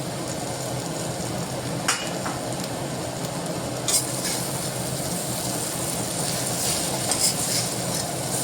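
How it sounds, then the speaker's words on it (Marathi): Veg Hakka noodles are stirred and fried in an iron wok, with a continuous close sizzle and a few brief metallic scrapes and clinks of the spatula. "छान असं व्यवस्थित मिक्स करून घ्यायचं।"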